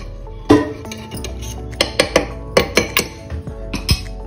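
A spoon mixes meat and oil in a metal pot for aloo gosht, making a close series of sharp metallic clinks and scrapes, irregular at first and then more rhythmic, with no talking.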